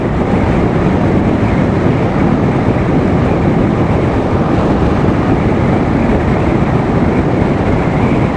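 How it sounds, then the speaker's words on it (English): Loud, constant wind buffets the microphone while riding in the Philippines, a dense low roar that never lets up, with no other sounds coming through. "It's a little bit windy. You probably can't hear a word I'm saying."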